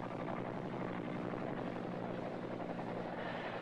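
A military helicopter flies overhead with a steady, heavy rotor and engine roar that stays loud and constant throughout.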